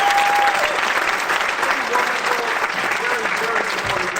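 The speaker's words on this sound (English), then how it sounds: "Can I get a round of applause?" Steady audience applause at a community gathering, dense and even throughout, with faint crowd murmur beneath.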